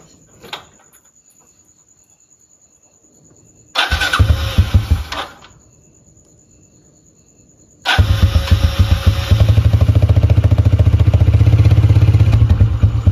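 A motorcycle, said to have run out of fuel again, is kicked or cranked in a short loud burst that dies, then catches on a second try and runs steadily and loudly close by, with a thin insect-like whine in the background.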